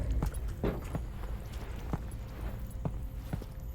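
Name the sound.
footsteps in Half-Life: Alyx, video game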